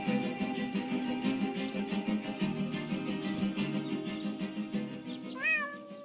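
In the video game Deponia, a cat meows repeatedly in short, plaintive calls over a soft, steady game backdrop, rising to a sharper meow near the end.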